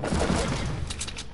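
Video game gunfire crackles in a rapid, dense burst of shots, loud and close, filling the short moment without pause.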